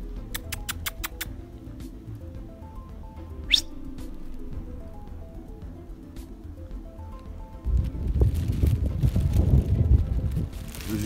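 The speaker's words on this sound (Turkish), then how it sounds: "Rüzgar da esmeye başladı." Outdoors where stray puppies are being fed, wind starts gusting across the microphone as a low rumbling buffet in the final few seconds, after a quieter stretch with faint chirps.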